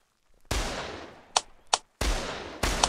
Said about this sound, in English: Let's just shoot this nobody down.